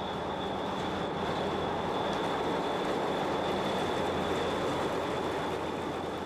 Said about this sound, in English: the train crew can start the complex process of shunting the freight siding